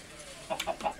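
A few quick, soft clucks from a Minecraft chicken, three short calls in a row over a quiet background.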